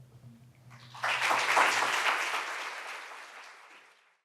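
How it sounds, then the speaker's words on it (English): Audience applause after a memorial lecture on substance use disorder history and treatment, starting abruptly as a dense burst of clapping that swells and then tapers off gradually, with a faint low hum beforehand. "Please join me in another round of applause for Rachel Jantz and Dr. Cara Poland."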